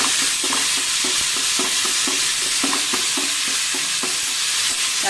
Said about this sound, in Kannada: ಹೆಚ್ಚಿಟ್ಟಿರೋ ಟೊಮೊಟೊ ಹಾಕ್ತೀನಿ.